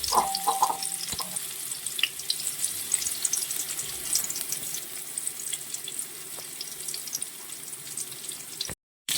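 Mustard seeds crackle and spit in hot oil as small shallots begin frying, a continuous hissing sizzle with scattered pops and a few clinks near the start, then a sudden cut at the end.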